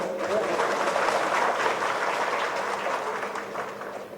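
An audience at a political speech in Kerala claps steadily, a dense, continuous wash of many hands that stays loud for the whole stretch, fading slightly at the end, with no voice over it.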